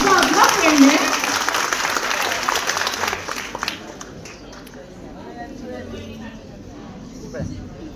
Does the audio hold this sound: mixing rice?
no